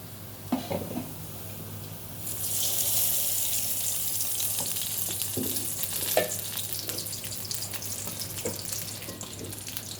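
Beans, potatoes and cauliflower fry in a pan with a steady hiss, stirred by occasional scraping clacks of a spoon, close and continuous without speech.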